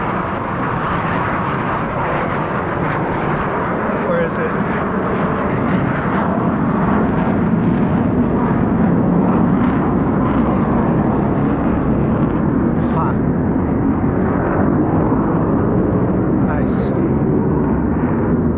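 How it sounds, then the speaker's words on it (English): A military jet passes over near the Whidbey Island air base, a loud sustained roar that swells and holds. People talk briefly beneath it. "There's a lot of jets flying around here."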